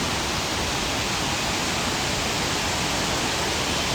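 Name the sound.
Dadar Waterfall in Kaghan, Pakistan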